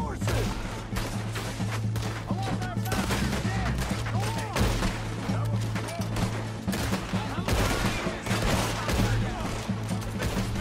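Gunfire from a long-range shot in Red Dead Redemption 2 cracks out in several bursts over a steady low engine-like rumble, with a person talking excitedly throughout.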